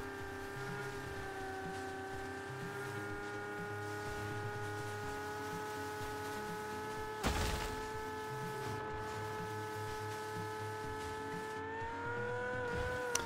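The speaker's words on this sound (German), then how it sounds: "Der Lambo ist bergauf. Tut es sich schwer, ne?" A Lamborghini straining uphill in PUBG, its engine a sustained, even drone that rises slightly near the end, broken once by a sharp thump midway, with no talking.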